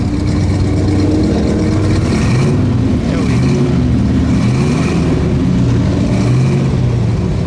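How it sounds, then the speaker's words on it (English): A 1956 Chrysler New Yorker 354 Hemi V8 engine revs up and down several times, loud and close, its pitch rising and falling in repeated sweeps, while a muscle car passes by. "Let's give that a rev, please."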